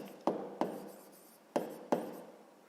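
Pen writing on paper during a 6th-grade math exercise, four crisp scratching strokes in two pairs, close and moderately loud over a quiet background with no speech.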